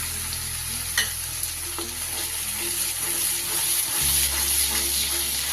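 Whisked sour yogurt is stirred into masala frying in oil for butter paneer, giving a continuous close sizzle with scraping spoon strokes and a low steady hum underneath, with no voices.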